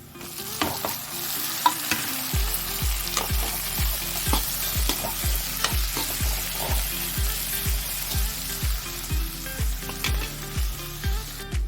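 Mustard seeds and urad dal fry and sizzle in hot oil in a pan for a dry fish thokku, with a steady popping crackle and rhythmic stirring strokes scraping through it, loud and close, with no talking.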